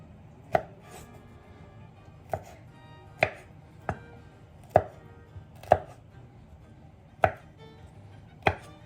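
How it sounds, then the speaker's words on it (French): A knife chops through food on a board in sharp, single strikes, about nine evenly paced cuts in a quiet room. "le reste je vais le couper en morceaux"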